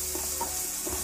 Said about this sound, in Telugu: ఇలా మంచిగా కలుపుకుందాం.